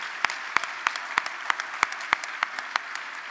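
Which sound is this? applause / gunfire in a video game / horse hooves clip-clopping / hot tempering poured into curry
applause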